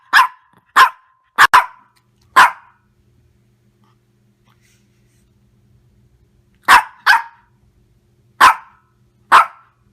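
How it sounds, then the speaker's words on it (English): A small pet dog named Snookie barks in sharp single yaps and quick pairs, close and loud, with a long quiet gap between two bursts of barking. "Must you bark all the time?"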